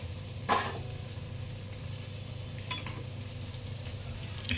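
Black-eyed pea vadas deep-fry in hot oil with a constant close sizzle, broken by a sharp clatter early on and a few faint clicks of stirring.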